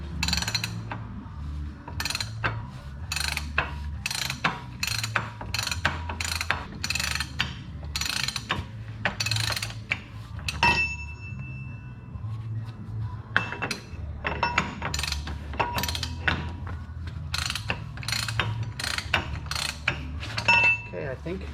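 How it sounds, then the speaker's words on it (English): An impact wrench rattles continuously on a wheel axle nut during a W990 wheel seal change, a dense run of rapid hammering bursts close up over a steady low hum, with brief pauses partway through. "Just never used an impact on axle nut before"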